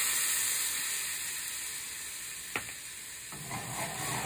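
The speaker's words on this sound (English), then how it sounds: "I'm going to add a little bit of white wine to deglaze the bottom of the pan" White wine poured into a hot sauté pan to lift the browned bits, giving a steady loud sizzle and hiss with a sharp burst partway through and a fresh surge of bubbling near the end.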